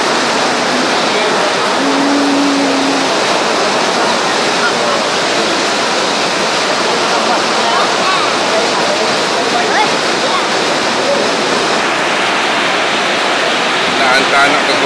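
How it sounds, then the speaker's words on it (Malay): Heavy rain pours steadily and loudly for the whole stretch as a dense, unbroken broadband roar with no pauses or distinct voices. "Lepas tu pun bila kat sini hujan lebat, air penuh ni."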